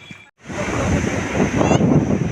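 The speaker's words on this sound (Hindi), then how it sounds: "देखिए फैमिली समुद्र की लहरें," Sea waves break and wash up on Puri beach in Odisha, a loud, close, continuous roar with strong wind buffeting the microphone, rising after a brief dropout at the start.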